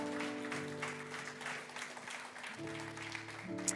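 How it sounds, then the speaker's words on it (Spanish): Applause from a church congregation during a service, soft and somewhat distant clapping with sustained organ or keyboard tones ringing underneath. "Dale un aplauso al Señor en esta tarde maravillosa"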